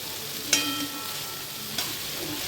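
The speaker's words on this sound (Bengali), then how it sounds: "সসটাকে ভালো করে একটু ভেজে দেবো।" Tomato sauce frying in a little oil in a pan, a low, continuous sizzle broken by two sharp spatula clicks, quiet and without talk.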